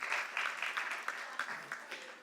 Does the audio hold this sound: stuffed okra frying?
no